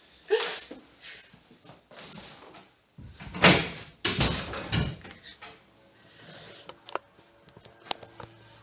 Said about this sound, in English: We're going to open the doors.